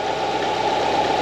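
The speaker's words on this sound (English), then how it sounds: "Idle speed's coming down a bit, sounding better." A Subaru Forester's EJ25 engine idles steadily just after being reinstalled, a low even thrum with a faint knocking pulse, heard close and alone for about a second.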